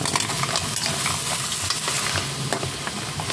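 Chayote and mussels sizzle steadily in a hot pan while being stirred, a dense continuous frying hiss with scattered scraping clicks from the utensil, close and fairly loud throughout.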